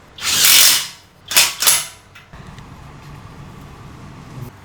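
Power tool tightening tie rods on a totaled Honda Civic Type R, with a long whirring burst followed by two shorter bursts, then a steady low mechanical rumble with faint clicks.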